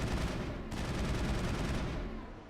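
Sustained gunfire aimed at a Geth Prime in Mass Effect 1, a dense rattling fusillade that stays loud and unbroken for the whole stretch, with no voices over it.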